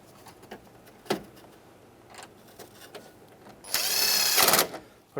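A power drill drives screws back into the dash of a 1992-1996 Ford F-150 during headlight knob replacement: one loud, steady whirring burst of about a second, close by, after quieter clicks and handling noises.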